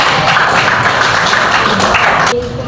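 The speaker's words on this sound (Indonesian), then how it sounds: "Tepuk tangan untuk kelompok" Applause for a group of students fills the room as a dense, steady patter of many hands, loud and close, then thins out abruptly near the end.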